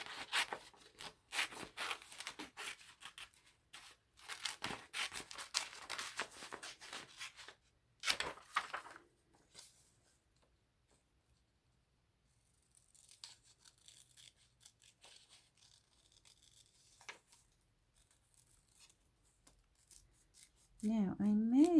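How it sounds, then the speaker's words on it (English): Scissors cutting tree shapes out of paper in close, uneven bursts of snipping and rustling, separated by quiet pauses, with a voice speaking briefly at the very end. "let's fussy cut some trees"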